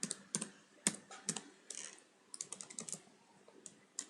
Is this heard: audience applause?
no